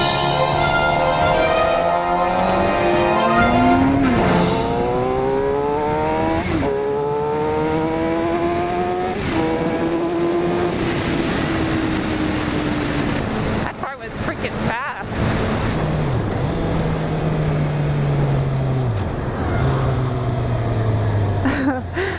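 A Ford Fiesta ST drives past a helmet-mounted microphone while a motorcycle engine steadily climbs and drops through its gears. Wind roar stays constant, and a brief louder rush marks the car going by.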